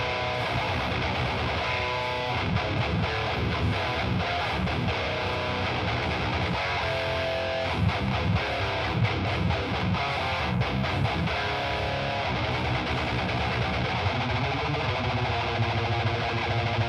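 Electric guitar fitted with an L500 XL pickup through a high-gain amp simulator, steady dense distorted riffing at moderate level with continuous palm-muted chugs and notes.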